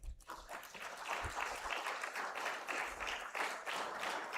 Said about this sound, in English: Louder applause is also fine.